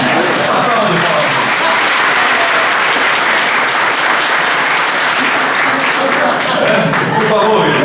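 Steady, dense applause from a large audience at a spiritist symposium, loud and sustained throughout with no pauses, the clapping filling the whole stretch evenly.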